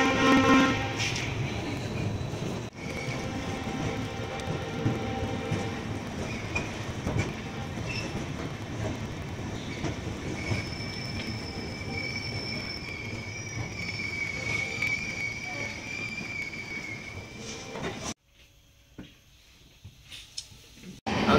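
The Gomti SF Express pulls out of Lucknow with a steady rumble of rolling wagons, clacking wheels and occasional squeals close by. A voice speaks over it, and the noise cuts off abruptly near the end into a quieter space.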